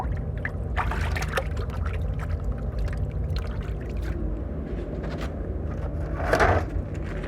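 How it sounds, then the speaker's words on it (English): Hands swish and rinse in a plastic bucket of water in an art studio, a steady low splashing and trickling with a brief louder slosh near the end, close by and with no voices. "I'm gonna rinse my hands off"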